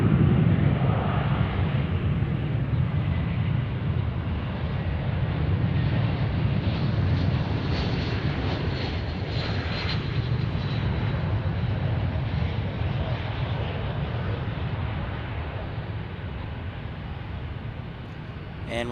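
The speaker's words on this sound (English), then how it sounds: "There's a E-175 takeoff." An Embraer E-175 regional jet takes off at DFW airport, a loud, continuous engine roar with heavy low rumble and whooshing wind that holds steady for nearly twenty seconds before easing slightly.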